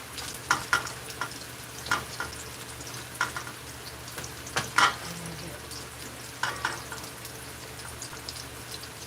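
Ground beef and Italian sausage fry in a pan with a steady sizzle, broken by repeated scraping stirs of a utensil every second or so, close and moderately loud.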